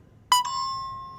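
Game show answer signal sounds once, a sharp tonal bleep with a bright, sustained ringing tail that fades slowly, alone without talk.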